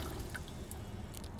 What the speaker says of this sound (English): We got running hot water.